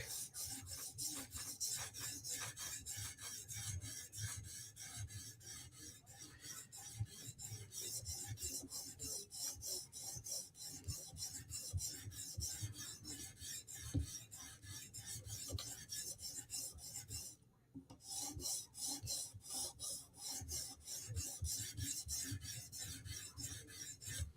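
Knife blade rubbed on a 400 grit sharpening stone: a steady, rhythmic scraping of rapid repeated strokes, close and fairly quiet, with one brief pause near the end and no talking.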